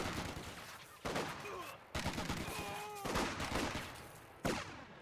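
Rapid machine gun bursts from a set-up MG team in Company of Heroes 2, loud staccato rattles broken into several separate volleys with faint tonal game sound effects underneath.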